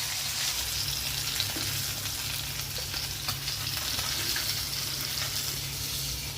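Hilsa fish pieces sizzling in hot oil in a pan, a steady close frying hiss with faint crackles and occasional soft pops, no voices.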